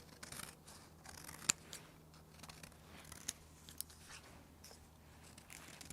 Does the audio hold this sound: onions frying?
no